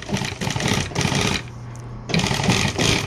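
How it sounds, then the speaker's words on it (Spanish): A sewing machine stitches double piping onto a car seat, running in fast rhythmic bursts with a brief pause in the middle, loud and close, with no talk. "ahorita le voy a coserlo todo así"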